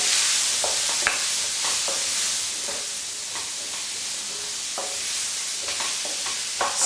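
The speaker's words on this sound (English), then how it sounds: "Stir that in, and then you're going to put it onto a low heat" Turmeric is stirred into a courgette curry in a pan, with a steady sizzle and hiss under repeated scraping spoon strokes, close and continuous, with no talk.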